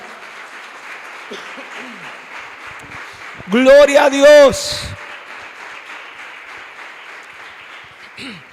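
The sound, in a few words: church congregation applauding for the Lord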